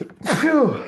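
A single close, loud sneeze from a sports talk show host, a short sharp burst that trails off into a breathy exhale.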